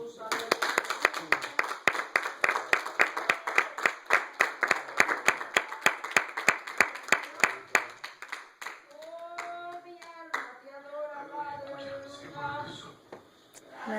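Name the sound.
audience applause in church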